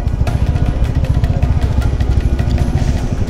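Motorcycles of a 32-bike group ride gather at a meetup point near Kolkata, their engines idling and rumbling together in a dense, continuous low drone with faint clattering on top.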